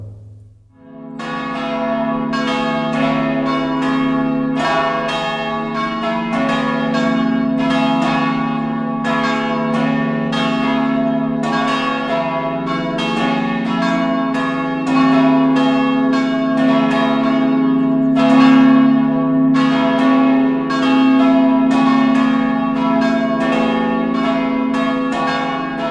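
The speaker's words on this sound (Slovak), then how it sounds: "Starý zvon, ktorý sa zachoval už zo spomínanej zvonice, bol zavesený ako štvrtý a váži 12 metrických centov." Church bells ring from a Lutheran church in Pliešovce, Slovakia, where an old bell from the former belfry hangs as the fourth bell, weighing 12 metric quintals; heavy rhythmic strikes overlap in a sustained, loud, resonant peal with a deep humming tone beneath.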